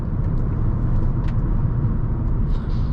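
A 2022 Kia K5 GT Line rolls into a corner, a steady low road and engine rumble from inside the cabin, fairly loud and continuous with no voices.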